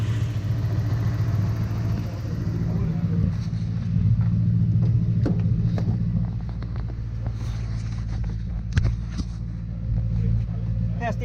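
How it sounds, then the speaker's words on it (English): A Toyota Surf with a 1UZ-FE engine idles steadily after a power steering pump repair, a low, even rumble close by with some wind noise and a person talking over it. "Power steering pump's back on"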